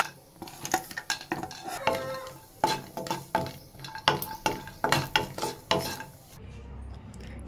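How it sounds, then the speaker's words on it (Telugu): Cashew nuts fried in a pan for date and seed laddus: a metal spoon scrapes and clatters against the pan in a steady rhythm over a soft sizzle, close up, stopping near the end. "ఇంక వీటిని తీసి పక్కన పెట్టుకొని మనం జీడిపప్పును కూడా ఫ్రై చేసుకుందాం."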